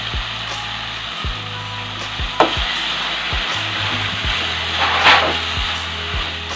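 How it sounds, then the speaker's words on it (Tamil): A steady sizzle of chopped tomatoes and onions frying in a pan for squid masala fry, with occasional scrapes and taps of a utensil stirring, close and continuous. "இந்த தக்காளியும் வெங்காயமும் கொஞ்சம் நல்லா வதங்கட்டும்."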